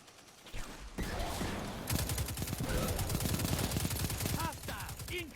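Rapid automatic gunfire rattles in the Destiny 2 Gambit mode, dense bursts of shots running almost continuously over game sound effects, with a brief lull before the firing picks up again.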